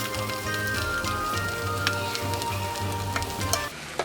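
Fried ingredients sauté in a pan in a Jaffna village kitchen, a steady close sizzle with scattered crackles and occasional utensil clinks, carrying on without any talk.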